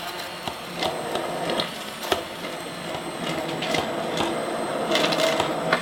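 An immersion blender purees potato and leek soup in a pot, a steady whirring motor drone with intermittent louder surges and scraping, no talking.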